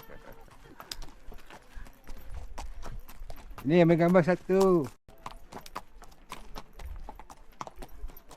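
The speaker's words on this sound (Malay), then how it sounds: "Jom naik kuda." Horse hooves clip-clop steadily on hard ground during a horseback ride at Petra in Jordan, close and rhythmic under conversational voices, with a horse's whinny breaking in briefly midway.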